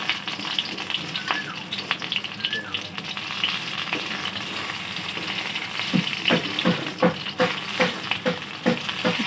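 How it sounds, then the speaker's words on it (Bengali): Pieces of rui fish fry in hot oil, a steady crackling sizzle with sharper pops and stirring clatter growing denser toward the end, close up, with no voices. "মাছগুলো ভালো করে ভাজা হয়ে গেছে এরকম লাল লাল করে ভেজে নিতে হবে"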